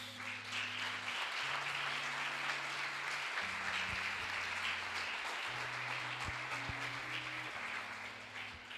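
A church audience claps at a sermon, a dense, even patter of applause held at modest volume, while sustained keyboard chords ring underneath and shift pitch several times.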